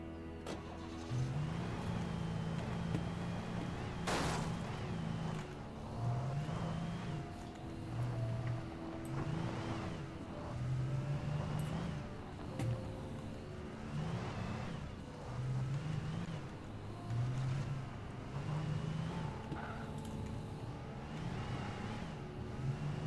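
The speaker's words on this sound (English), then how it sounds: "These cars sound terrible when you try to drive them." Cars driven in the video game Alan Wake give a rough, strained mid-range engine drone that swells and dips in repeated surges, heard clearly and without talk.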